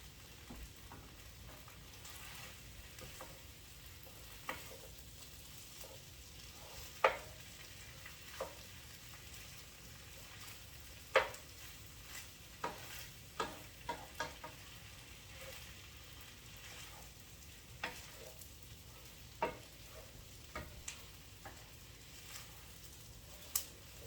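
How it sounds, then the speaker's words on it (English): Onions browning in a pan for French onion soup keep up a soft, steady sizzle while a utensil stirs, clicking and scraping now and then at an unhurried pace; no voices. "What I'm doing right now is I'm just stirring to get these brown."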